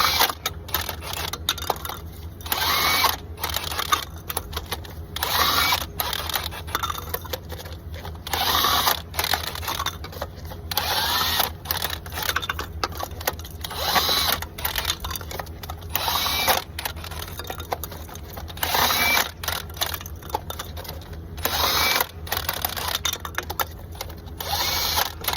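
A Chicago Pneumatic air impact tool spins truck drive-tire lug nuts off in repeated short rattling bursts, fairly close and loud, with brief pauses between each nut.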